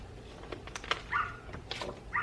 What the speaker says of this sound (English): You hear my dog outside barking